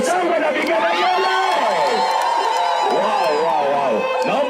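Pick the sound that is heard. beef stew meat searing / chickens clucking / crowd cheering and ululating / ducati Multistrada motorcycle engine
crowd cheering and ululating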